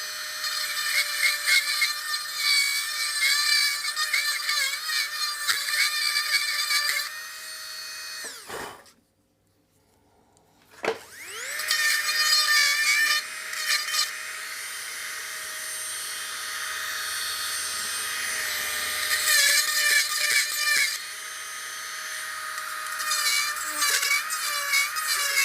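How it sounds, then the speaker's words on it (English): A high, whining rotary tool reams out holes in rotten, punky wooden blocks, running loud and continuous with one brief stop and restart partway through. "so I'm just going to ream that out a little bit now"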